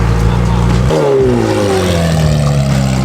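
A 720 GTR car at the Malibu Autobahn meet growls loudly nearby, its engine note sliding steadily downward after a sudden shift, with people talking over the revving.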